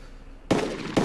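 Two sharp, loud gunshots ring out in DayZ Epoch, the second about half a second after the first, each with a lingering tail over a quiet background.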